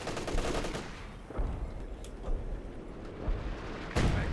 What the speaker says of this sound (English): Major artillery there.